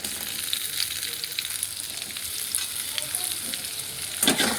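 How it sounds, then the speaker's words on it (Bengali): Vegetables frying in leftover oil from frying prawns for mixed rice with chilli chicken, a steady close crackling sizzle with occasional stirring scrapes and a louder stir near the end. "এই চিংড়ি যে ভাজা ছিল ওই তেলটা দিয়ে আমি ভেজিটেবিলগুলোকে ভেজে নেব।"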